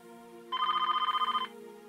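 An incoming call sets a phone ringing with one sharp, trilling electronic burst lasting about a second, close and clear over a quiet room hum.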